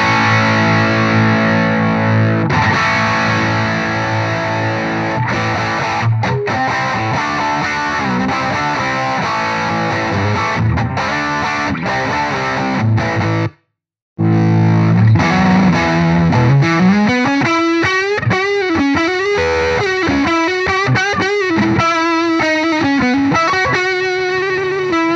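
Electric guitar through an H&K Spirit Nano amp pushed into power amp saturation and sag, thick distorted chords then a sustained bending lead line, heavily compressed and loud, broken by a brief silent gap midway.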